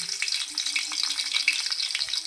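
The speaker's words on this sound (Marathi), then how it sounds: "पाच सहा लसणाच्या पाकळ्या ठेचून घ्यायच्या आणि त्या तेलावर टाकायच्या" Five or six crushed garlic cloves fry in two spoons of hot oil in a pan, a close, continuous crackling sizzle with a few soft stirring scrapes, no talking.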